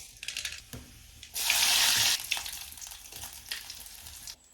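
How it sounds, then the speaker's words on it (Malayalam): Coconut oil poured into a pan of fish curry sets off a short burst of loud sizzling that fades into softer bubbling and stirring. "ഇനി കുറച്ച് വെളിച്ചെണ്ണ ഉറ്റിച്ചു കൊടുക്കുക, കുറച്ച് ഒഴിച്ചു കൊടുത്താൽ മതി."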